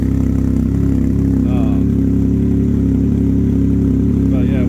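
Tuned 2022 Can-Am Ryker Rally idling after a cold start, a steady loud, deep engine drone with an even rumble throughout, close by.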